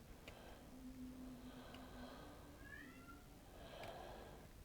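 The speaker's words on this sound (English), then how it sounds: "My cat's crying." An indoor cat meows several times, faint and somewhat distant, with drawn-out cries standing just above a steady background hum.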